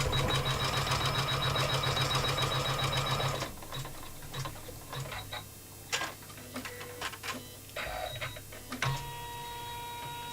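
A home embroidery machine bastes a design onto fabric, first running a loud, steady mechanical whir, then slowing into sparse ticks and clicks as the stitching proceeds at low speed.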